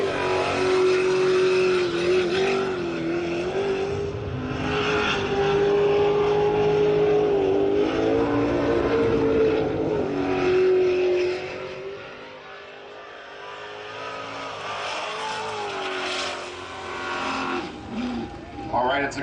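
A jet sprint racing boat on a qualifying run at a pro race in Lewiston, Idaho, its engine roaring loud and steady with rising and falling revs throughout. A commentator talks over it.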